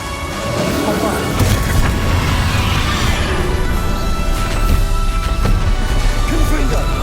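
Spell blasts from Hogwarts Legacy on PS5: a dense, sustained barrage of booming, crashing impacts and splintering debris, loud and continuous throughout, with combat effects layered and overlapping and no clear pauses.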